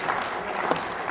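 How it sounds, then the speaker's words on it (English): An audience at a keynote event applauds a participant, a brief burst of dense clapping heard at a distance. "Give Jason a round of applause"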